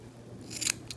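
Scissors snip cotton wick to length for a vape rebuildable tank atomizer, giving two quick, crisp cuts close by, the second lighter and shorter, over a quiet room.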